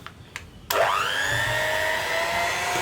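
An electric mixer starts at slow speed, mixing sifted cocoa powder and sugar for a brownie batter. A couple of short clicks come first, then the motor whines up and holds a loud, steady close hum.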